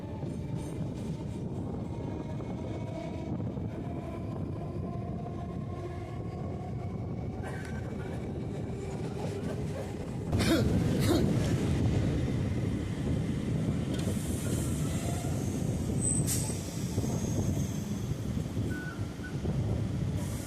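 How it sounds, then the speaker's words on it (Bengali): A local train rumbles and rattles continuously as it leaves Birati station, growing louder midway as it gathers speed, with wind buffeting the microphone and no voices. "ট্রেন বিরাটি স্টেশন ছেড়ে বেরিয়ে যাচ্ছে"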